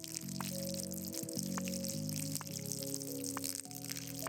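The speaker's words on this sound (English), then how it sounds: "And pour the water on." Water poured from a watering can in the video game Schedule 1, a soft steady trickle running under continuous in-game music and ambience, with no talk.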